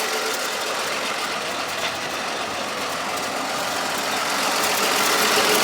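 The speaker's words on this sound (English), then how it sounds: "6-cylinder motor. Not smoking, nice and smooth, nice idle." A 1955 Chevrolet half-ton pickup, an original farm truck with a six-cylinder engine, idling steadily and smoothly: a continuous close mechanical hum with faint ticking, unchanging in level throughout.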